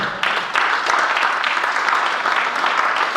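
A church congregation applauds and cheers in praise at a worship service, a dense and loud wash of clapping that stays steady throughout with no clear speech.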